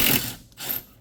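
A ratchet clicks rapidly in a short burst while backing out a brake caliper bolt on a 2004 Pontiac GTO, close and alone, fading after a brief pause.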